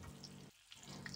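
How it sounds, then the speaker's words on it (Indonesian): Shallots and garlic sizzle in hot oil with a soft, steady crackle, briefly dipping quiet before the frying hiss resumes, with no voices. "Ini digoreng sampai layu."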